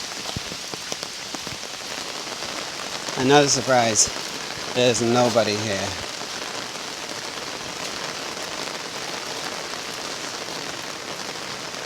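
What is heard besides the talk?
rain falling during a mountain hike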